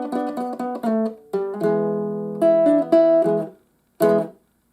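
Baritone guitar plays a blues riff in E alone: clipped plucked notes, then sustained chords and bends, a pause, and a final short stab.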